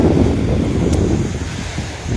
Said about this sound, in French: Oh, les vagues. Les vagues.